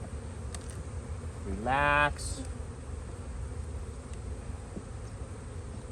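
Honeybees hum softly around an open spring brood box during a hive inspection, a low steady drone under a brief spoken word, with one louder close buzzing pass lasting under a second.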